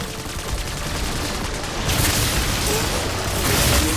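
Gunfire in Call of Duty zombies on the Terminus map, a dense, continuous barrage of shots with a harsh, noisy texture that grows louder partway through.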